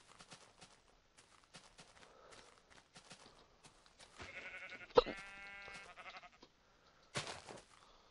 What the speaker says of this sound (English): I can't even kill one sheep.